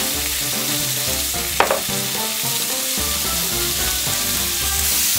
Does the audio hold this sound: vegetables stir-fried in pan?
yes